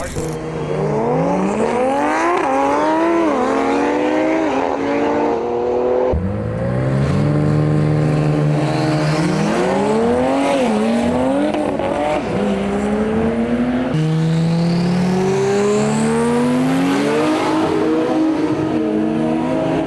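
A Dodge Charger Six Pack race car engine screams up through the gears in rising revving sweeps on test passes at a Detroit street race, repeated across several passes, loud and close.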